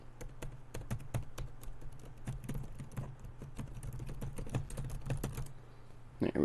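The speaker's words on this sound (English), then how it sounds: "you can hear the little clicking of the keyboard" Close, busy computer keyboard typing with scattered sharp clicks of a mouse, a steady run of light taps over a low electrical hum, ending in a brief louder rustle.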